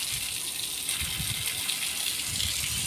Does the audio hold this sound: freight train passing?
no